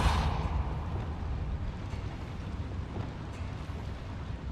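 Spell effects being cast in the game Hogwarts Legacy, a dense, sustained rumbling whoosh with a bright burst at the start, steady and loud throughout with no voices.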